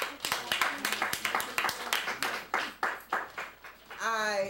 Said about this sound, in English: I think we should all give ourselves applause.